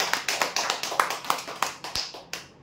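Applause for a prize winner at a customer lucky draw in Rajur, heard as sparse, distinct claps from a small group in an irregular rhythm that thin out and fade near the end.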